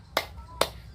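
Two sharp, separate hand claps from a grade 4B class's cheer, about half a second apart, over a quiet room.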